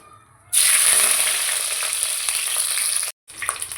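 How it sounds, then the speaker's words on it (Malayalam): A sudden loud burst of sizzling as curry leaves hit hot coconut oil in a pan, crackling steadily for a few seconds before cutting off, then quieter spitting. "ചട്ടി ചൂടായിട്ടുണ്ട് നമുക്ക് ഒരു തണ്ട് വേപ്പല ഇതിനകത്തേക്ക് ഇടാം"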